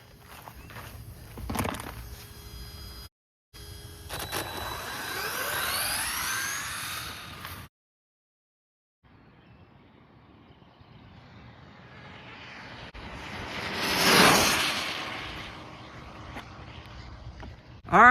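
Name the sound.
Rlaarlo SBK10 RC car motor at full throttle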